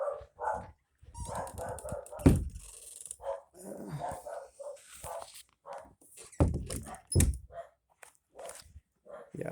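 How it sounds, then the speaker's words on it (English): A pet dog barks in repeated sharp yaps and short whimpering sounds at close range, mixed with a few thumps, in a scattered, uneven rhythm. "I live with a dog that barks at me all fucking day."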